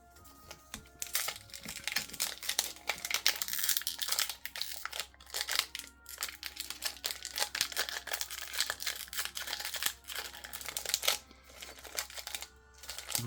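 Crinkling and tearing of the foil wrapper on a Charizard (Dracofeu) Pokémon card booster pack from the Obsidian Flames set, a steady run of close, loud crackling bursts with brief pauses over about thirteen seconds.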